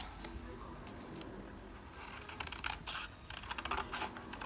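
Bigger scissors snip through paper for a junk journal, a few soft crisp cuts and rustles bunching near the end over a quiet room hum.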